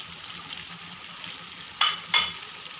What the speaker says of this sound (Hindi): इसी कंडीशन में अब डालते हैं हम इसमें 1 चम्मच ज़ीरा, 1 चम्मच सूखा धनिया, 1 चम्मच गरम मसाला पाउडर